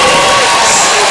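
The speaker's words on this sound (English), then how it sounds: "You can hear the crowd as Kenny announced the Raiders" A packed high school basketball gym crowd roars and shouts as the Three Rivers Raiders are announced: a loud, dense, continuous wash of cheering throughout the short moment.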